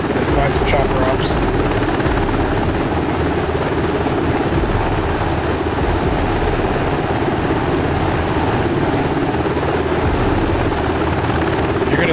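Steady loud whir of a SeaHawk helicopter's rotor and turbine in DCS World, a constant dense drone filling the whole stretch with no breaks.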